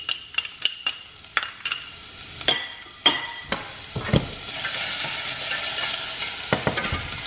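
Quiet scraping of a spoon stirring in a saucepan, then a steady soft sizzle of minced shallots sweating gently in butter, close by.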